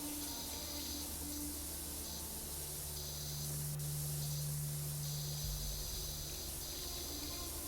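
A virtual pressure washer in PowerWash Simulator 2 sprays with a constant, close hiss that runs through the whole stretch, with a speaking voice faintly underneath.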